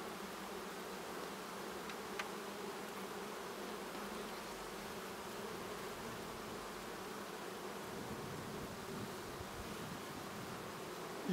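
Honeybees swarm over a brood comb as young bees chew their way out of their cells, giving a steady, close, dense buzzing hum that holds evenly throughout.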